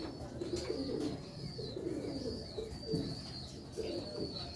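Sialkoti Ali wale pigeons, an old pure-bred line, coo in soft repeated rolling phrases from several birds close by, with faint chirps above a continuous low murmur of the flock.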